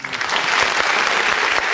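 An audience breaks into a dense, loud burst of clapping during a podcast taping, the applause steady and close without voices standing out.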